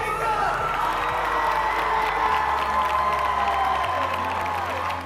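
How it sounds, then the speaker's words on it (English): A large audience at a school ceremony bursts into loud applause and cheering for a student, with sustained clapping, whoops and shouts forming a continuous roar close by. "applause to Jacob!"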